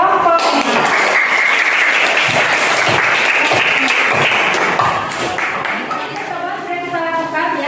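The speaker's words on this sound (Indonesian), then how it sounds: "Berikan tepuk tangan untuk kelompok." A classroom of students bursts into loud, dense applause for a student group after a presentation, sustained clapping that dips briefly and continues, with faint voices mixed in.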